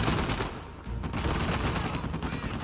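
Heavy mounted turret machine gun fire in Uncharted 4, a dense, continuous burst of rapid shots with loud rumbling impacts that briefly drops out, then resumes steadily up close.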